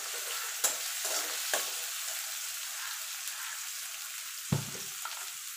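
Onion fries in a pan with a continuous soft sizzle, broken by a few sharp scrapes and taps of a stirring utensil, close and fairly quiet.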